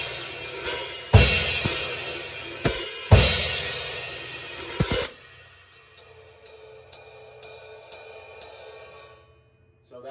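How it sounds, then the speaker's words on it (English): A drummer keeps time on a ride cymbal in a worship song arrangement, with loud crashes and kick hits early giving way to steady, evenly spaced ride pings ringing on alone. "and then you just keep time on the ride"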